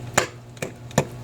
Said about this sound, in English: kind of use a hammer action and just pop it right back in there.